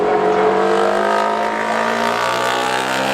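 A 2006 Ducati MotoGP racing motorcycle running the Goodwood Festival of Speed hillclimb, a loud sustained engine howl with steady harmonic tone, close and continuous for the whole moment.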